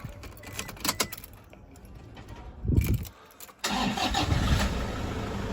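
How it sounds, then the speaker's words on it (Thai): A few clicks and rattles, then the 2.5-litre turbo engine of a 2015 Toyota Vigo Prerunner Smartcab pickup cranks briefly and catches, settling into a steady idle close by. "เดี๋ยวผมทำการสตาร์ทให้ดูเครื่องยนต์ก่อน"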